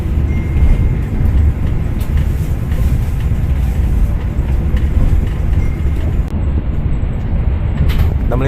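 Taksaka executive-class passenger train rolling steadily on rails at speed, a continuous loud rumble of wheels and carriage noise with faint clatter, heard from inside the coach.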